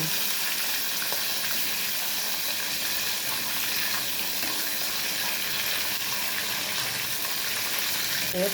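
Fish and tomato curry ingredients frying in hot oil give a steady, dense sizzle and crackle that runs unbroken and fairly close, with no voices.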